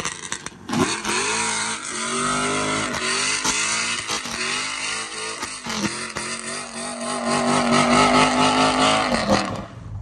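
A pickup truck engine revs hard at a street meet in Houston, loud and close, climbing and falling in repeated bursts with a sustained high rev toward the end; other engines rumble in the background.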